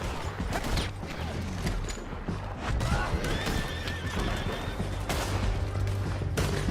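Horses neighing and galloping in the Red Dead Redemption 2 video game, a loud whinny over continuous hoofbeats amid gunfire and shouting voices in a busy chase.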